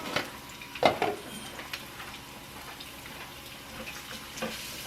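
Food sautés in a pan on a home stove, a soft continuous sizzle with a couple of brief stirring clatters near the start, fairly quiet and with no one speaking.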